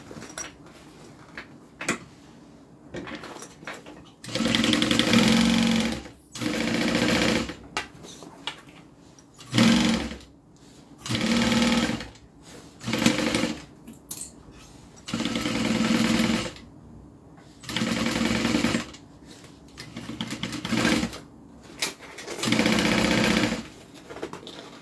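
Sewing machine stitching a seam on a Colette garment, running in repeated loud bursts of a few seconds each with short pauses between them, no talking.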